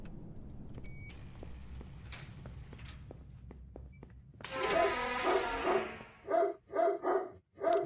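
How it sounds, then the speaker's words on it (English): A dog in a horror-themed train depot video game barks several times in quick, sharp bursts, loud and close, after a stretch of quiet footsteps and faint clicks. "The shift supervisor's dog."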